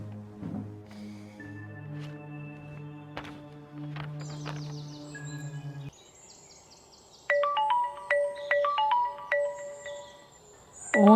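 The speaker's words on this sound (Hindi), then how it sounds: "फोन किसका आ गया?" A melodic electronic phone ringtone plays with shifting tones, pauses briefly, then resumes with a brighter, repeating beeping pattern.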